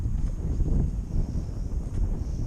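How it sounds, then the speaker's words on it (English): Rough, gusty wind buffeting a microphone outdoors during a Visuo XS816 drone flight, low rumbling surges rising and falling throughout, close and fairly loud with no clear voices. "Oh no, the wind is really taking it now."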